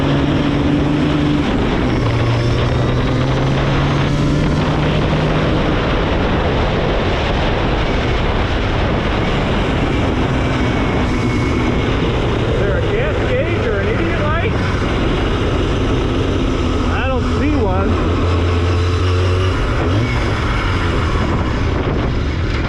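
A big-bore two-stroke engine runs loudly and close by with a rough, buzzing drone that rises and falls in pitch as the throttle and gears change. A voice talks over it.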